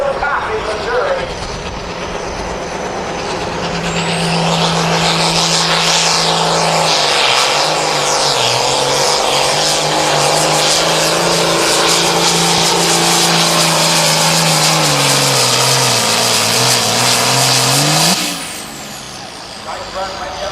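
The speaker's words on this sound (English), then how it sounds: "Nice run right down with a great tractor." John Deere 9000 series pro farm tractor making a pull run at a Kansas tractor pull, its engine a loud roaring drone that climbs and holds, wavers in pitch, then cuts off abruptly, with an announcer talking over it.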